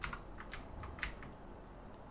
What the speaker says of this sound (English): I'm going to type the forbidden word in